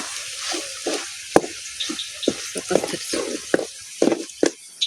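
A spoon scrapes and stirs chicken masala with garam masala as it sizzles and fries in a pan, with repeated short stirring strokes over a steady close sizzle.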